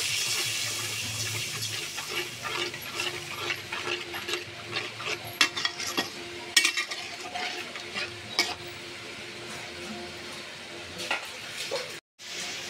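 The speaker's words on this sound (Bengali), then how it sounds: "মশলাটা ভালো করে কষিয়ে নেব।" Spice paste of ground cumin and salt, for a koi fish curry with taro and eggplant, stirred and frying in a pan, with steady sizzling and scraping strokes throughout and a brief pause near the end.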